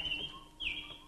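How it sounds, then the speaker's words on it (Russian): A small bird chirping, two short high tweets with a pause between them, clear but faint against a quiet background. "Птичка"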